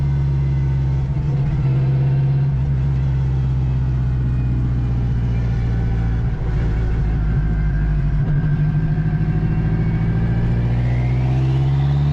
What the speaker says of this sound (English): You can hear the gears actually right now as I speak.